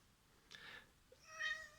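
A house cat meows twice, first a short breathy cry and then a clearer, rising meow, faint and close against a quiet room.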